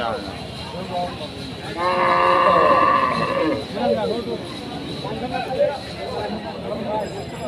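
A frightened cow at a busy cattle market lets out one long, loud moo, with people talking and crowd noise throughout.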